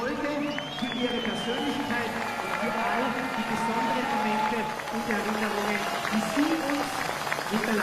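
A large outdoor crowd at a biathlon race in Hochfilzen, Austria, claps and cheers in a steady, dense wash of applause while a commentator talks over it.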